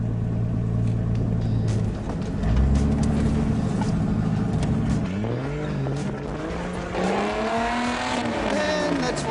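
A four-wheel-drive Toyota or Nissan without lockers crawls off-road through a big hole, its engine revving and labouring with rising and falling pitch, loud and close, and tyre scrabble beneath it.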